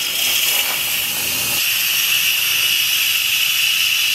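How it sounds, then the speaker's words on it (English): An Instant Pot venting steam after pressure-cooking elderberry syrup gives a loud, steady hiss that runs without a break and with no voices over it. "release that steam."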